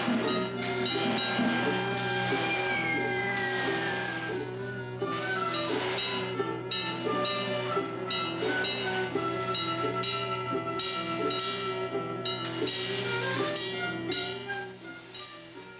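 A steam train rumbles along steadily with a sustained mechanical drone and layered tones, continuous and fairly loud throughout, with a descending whistle-like sweep early on.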